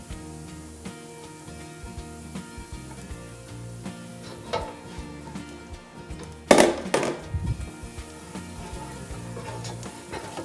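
Garlic sizzling in a pan while saffron chicken scallopini is cooked, a soft steady crackle under faint background music, broken by a sudden louder clatter of utensils partway through.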